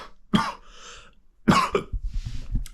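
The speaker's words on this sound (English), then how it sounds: "As if I don't cough all night." Two harsh coughs, a single close one followed about a second later by another, with a raspy throaty rumble trailing after.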